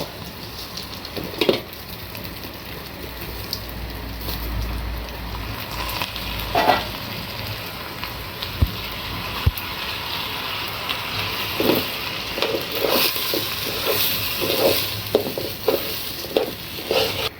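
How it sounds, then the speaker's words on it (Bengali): Washed polao rice being stir-fried with fried onions in a pan, a constant hissing sizzle broken by repeated scraping and stirring strokes, louder bursts coming in uneven bunches. "পেঁয়াজ ভাজা হয়ে গেছে। আগে থেকে ধুয়ে রাখা পোলাওর চাল দিয়ে দেব।"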